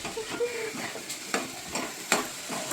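A crushed spice mix for veg biryani fries in a pan, giving a steady close sizzle with scraping stir strokes at irregular intervals and no talk.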